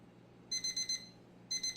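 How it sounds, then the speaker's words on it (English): An alarm going off in short rapid bursts of high electronic beeps, two clusters separated by a pause, fairly quiet against a near-silent background. "Oh, there's the alarm."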